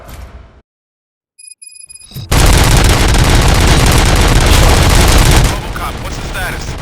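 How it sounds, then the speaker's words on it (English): Gunfire erupts in the video game Robocop: Rogue City, a dense, loud burst of rapid shots that keeps going for several seconds after a brief quiet stretch of faint electronic tones, then eases off to a lower rumble. "Gunshots? What's going on?"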